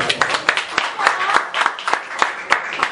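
Clapping from a small comedy club audience at a stand-up show, sharp individual claps rising and fading in uneven bursts, close and fairly loud, with a few voices mixed in.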